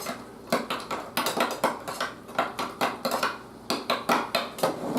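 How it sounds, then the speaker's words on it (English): Sriracha stirred into sour cream in a bowl, a utensil clinking and scraping against the dish in a steady rhythm of sharp taps, close and clear with no talk. "we are just going to mix the sriracha up with the sour cream"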